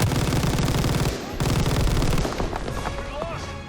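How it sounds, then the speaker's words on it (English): Rapid machine gun bursts of suppressing fire in the World War II shooter Call of Duty: WWII, loud and close, with a short gap before the firing resumes and tapers off into quieter battlefield noise. "Just provide as much suppressing fire as possible right now."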